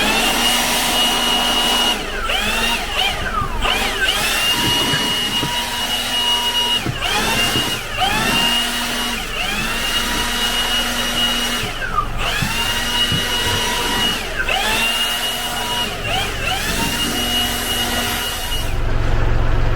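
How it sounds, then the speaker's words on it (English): Milwaukee cordless blower blasting debris out of a wood tote, a loud, close, continuous high whine that surges and dips repeatedly as the nozzle moves, with scraping and clatter of bits inside the tote. "So got the Milwaukee blower here."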